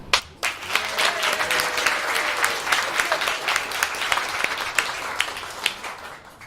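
Audience applause after hackathon results are read out, a steady round of clapping from a modest crowd, close and fairly loud, lasting the whole stretch with no talking.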